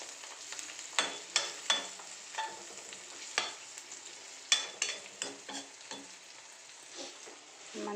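Turmeric being stirred into a frying-pan mixture for a Rayalaseema-style puffed-rice dish: repeated scraping, clattering stirs over a steady sizzle that runs throughout, close and fairly quiet.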